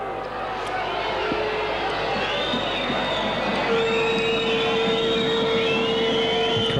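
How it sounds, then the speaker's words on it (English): A rugby league crowd at a night match roars and murmurs in a broad, distant swell of voices, with a whistle-like tone cutting through midway while a commentator talks over it. "Crowd here getting a bit upset"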